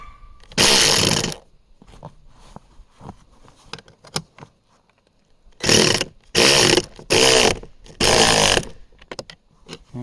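Rapid metallic clicking bursts from a ratchet wrench tightening a nut on a rooftop tent mount. One long burst comes first, then four quick bursts in a row, close and loud, with quiet handling sounds in between.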